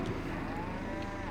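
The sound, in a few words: cows mooing in farming video game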